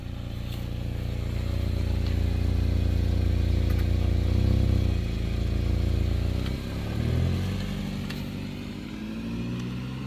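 A 2015 Chevy Equinox driving after a rear brake job, its engine a steady low hum with mild rises and dips in pitch as it moves, continuous and close, with no talking.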